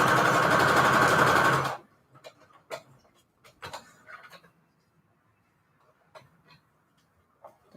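A sewing machine runs a steady, fast straight stitch through a fabric cluster on cardstock, a loud continuous whir for under two seconds before it stops, followed by faint ticks, taps and handling noises in a quiet room.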